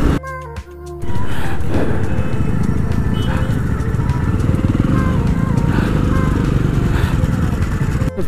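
Riding a Jawa 42 2.1 motorcycle through a busy road near Kharar, with loud continuous engine drone and traffic rumble close by, preceded by a brief mechanical clatter at the start.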